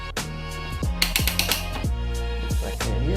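A ratchet wrench rapidly clicks while tightening the cylinder base bolts on a 2019 Yamaha YZ250 two-stroke during a top-end rebuild, with several quick bursts of close, metallic ratcheting.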